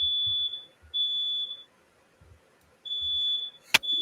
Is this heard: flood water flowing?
no